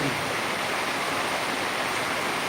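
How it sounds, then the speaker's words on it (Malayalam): Heavy monsoon rain in Peringottukara, Thrissur, pours down in a steady, dense roar of hiss with no letup, loud and close. "വളരെ ഭയങ്കരമായ മഴ"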